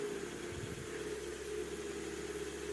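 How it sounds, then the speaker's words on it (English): A car engine idles with a steady, raw exhaust drone and a low rumble through a cheap, poorly silenced aftermarket back box, close and continuous, with no talking. "it's all on the back box, so it's just a cheap, not very silenced aftermarket back box"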